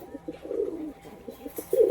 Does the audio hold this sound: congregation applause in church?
no